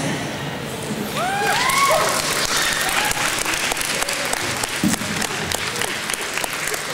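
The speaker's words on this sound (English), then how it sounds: "Let's have one more round of applause for all of our readers, all of our actors" An audience at New York Comic Con 2011 applauds a stage reading in a sustained burst of clapping, steady and full, with a few cheers rising through the noise.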